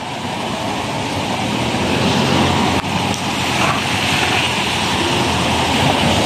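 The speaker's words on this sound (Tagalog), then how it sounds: "Umuulan." Rain pours steadily outdoors as a dense, even hiss with a constant loud wash, a brief dip near the middle, and no voices.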